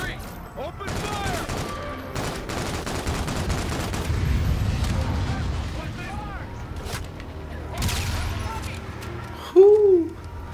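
Gunfire in the shooter game Call of Duty: Infinite Warfare: repeated bursts of shots crack through a busy battle mix, with heavier rumbling fire midway, while a voice talks over the action.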